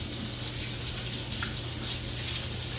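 A kitchen tap runs steadily while hands are washed during cooking, a constant close splashing hiss with no voices.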